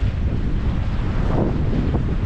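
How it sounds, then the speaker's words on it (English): Loud, constant wind buffeting a GoPro Hero10 microphone with wind noise reduction on, a low rumbling roar with no talking. "it's okay windy, so my tripod is not shaking"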